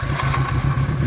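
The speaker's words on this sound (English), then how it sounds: "It's already warmed up, so don't worry that I'm revving it." A warmed-up late-1970s Benelli 250 Quattro four-cylinder motorcycle engine runs loud and close at high revs, with a buzzing, rapid mechanical drone and no talk.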